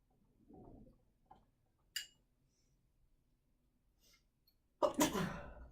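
A single loud, sharp sneeze bursts out near the end of a quiet classroom lecture setting, preceded by faint murmurs and a small click.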